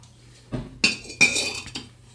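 Ground-glass canisters from a matching set clink against one another as they are handled, giving three or four sharp, bright knocks spaced across a couple of seconds in an otherwise quiet room.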